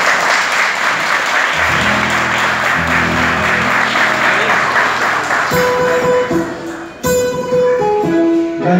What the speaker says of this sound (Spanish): Fuerte el aplauso para recibirlos